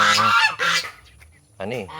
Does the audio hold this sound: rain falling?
no